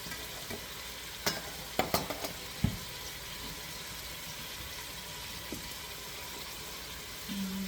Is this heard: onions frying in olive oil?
yes